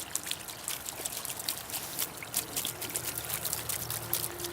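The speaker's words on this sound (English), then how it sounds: "You can see the way the water jumps out from the boulder there." Water spills out over a boulder fountain in a steady, close trickle and splash that continues alone for several seconds, with no talking.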